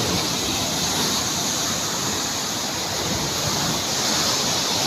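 Huge waves whipped up by Typhoon Opong crash and surge in a dense, constant roar of surf, with no voices heard.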